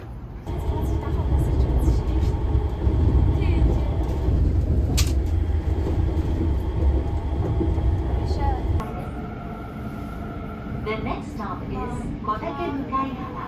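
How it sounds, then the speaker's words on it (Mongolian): Driverless metro train ride in Japan, a loud steady rumble and whine of the moving car for most of the stretch, then easing into quieter travel with faint background chatter. "Жолоочгүй метроны дээгүүр явна."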